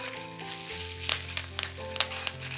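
Curry leaves dropped into hot oil in a pan while cooking a raw banana dish, a steady close sizzle with sharper crackling pops rising over it.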